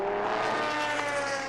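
SMP prototype racing car overtaking the United Autosports number 22 car at the 4 Hours of Red Bull Ring endurance race in 2018, a loud, steady, high engine whine sweeping past with no voices.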